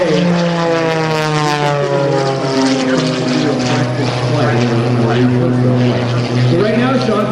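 Sean Tucker's propeller aerobatic airplane warms up at an air show, its engine a loud, steady droning buzz with shifting pitch and Doppler-like sweeps, heard alone and close.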